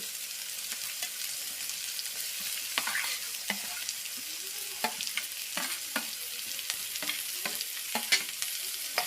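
Finely chopped onion and carrot for chicken momos fry with a soft steady sizzle in a pan, broken by repeated sharp scrapes and taps of a spoon as they are stirred.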